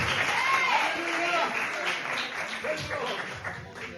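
Church congregation applauding after a sermon passage, a steady wash of clapping that carries through the whole stretch with voices calling and cheering over it.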